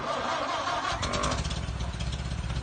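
A 1928 Ford Model A Roadster pickup barn find cranks and fires up, the starter grind giving way to a rough, pulsing engine running close by, loud and with no talk over it.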